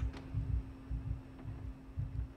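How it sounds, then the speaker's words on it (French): Accelerating heartbeat in the horror video game Layers of Fear, low thudding double beats pulsing steadily over a constant electrical hum, with no voices. "Vous entendez là le battement de cœur là qui s'accélère?"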